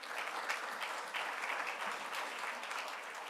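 A conference audience applauds steadily as a panelist is welcomed to the podium at a customs forum on illicit financial flows; a dense, even wash of many hands clapping at moderate volume throughout.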